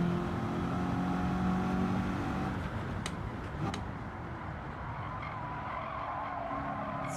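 Tires of a 2001 Corvette Z06 (C5) skid and lose grip in the Gran Turismo 7 racing game, a steady loud squeal over a droning engine that runs the whole stretch without letup.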